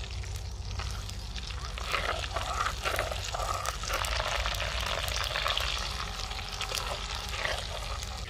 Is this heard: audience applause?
no